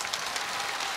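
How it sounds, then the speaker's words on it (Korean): Studio audience at a Korean televised singing contest in Andong clapping to welcome a contestant, a brief, even burst of applause at moderate volume. "박수로 환영해 주시기 바랍니다"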